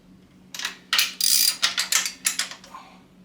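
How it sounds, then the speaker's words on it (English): Ratchet tightening exhaust clamp bolts on a Yamaha XSR900 motorcycle during an exhaust install, heard as a close series of sharp, rhythmic ratcheting clicks in quick bursts over a quiet background. "Alright, now we're going to crank it."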